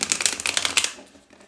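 A tarot card deck being shuffled in the hands, a quick rapid series of close riffling flicks that slows and fades after about a second, no talk.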